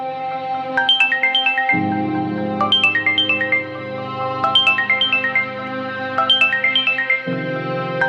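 A phone ringtone plays loud and alone: a repeating electronic melody of quick descending note runs over a sustained backing chord, cycling about four times.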